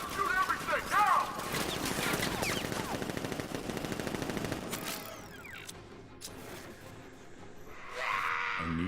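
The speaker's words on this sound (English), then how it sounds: "Open fire! Shoot everything!" Rapid gunfire rattles through a firefight in the video game Batman: Arkham Knight, dense bursts filling the first half before thinning into scattered shots and mechanical clatter, with voices heard over the shooting.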